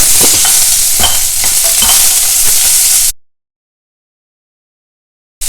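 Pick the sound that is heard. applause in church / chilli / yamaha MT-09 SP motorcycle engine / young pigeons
chilli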